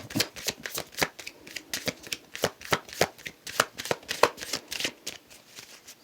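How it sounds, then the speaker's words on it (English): Cards are shuffled close up in a quick series of crisp riffling bursts, repeated rhythmically with no talking. "Alright, one more shuffle."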